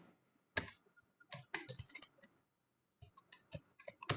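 Bursts of clacking computer keyboard keys, fast irregular keystrokes in clusters with brief pauses, close and fairly quiet, no voices.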